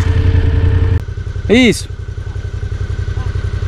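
Motorcycle engine stuck in deep sand on a Jalapão expedition trail, revving hard before cutting to a lower rhythmic idle, with a brief whistle-like squeal and people shouting nearby.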